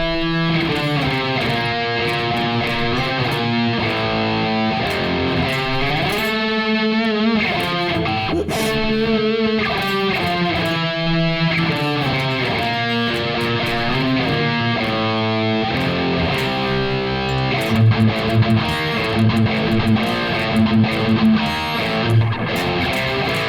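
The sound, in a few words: distorted electric guitar playing slowly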